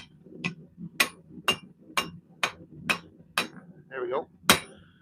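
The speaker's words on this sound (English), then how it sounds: "Just use the round side of our hammer." A blacksmith strikes hot metal with the round face of a forging hammer, drawing it out to a point: about nine sharp, ringing blows in a steady rhythm, close and loud, with a brief spoken remark near the end.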